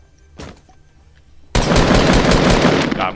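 Gunfire in a first-person shooter video game: one isolated shot, then a loud sustained burst of rapid automatic fire that runs to the end.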